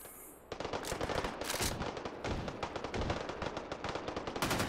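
Rapid automatic gunfire from the VR shooter game Hot Dogs, Horseshoes & Hand Grenades, a loud, dense stream of close shots in quick bursts, with a few brief pauses, and no talking.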